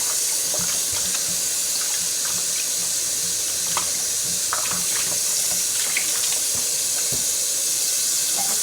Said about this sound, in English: Do a little rinse. Little final rinse on them.